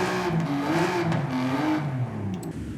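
A stock 7.7 litre V12 engine revs in a car in Forza Horizon 5, a loud, steady, sustained engine drone that rises and falls in pitch, with no talk over it.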